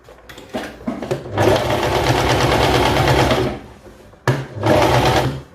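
Sewing machine stitching a topstitch along a dress seam, a close steady whirring run broken by short pauses, then a second burst of stitching.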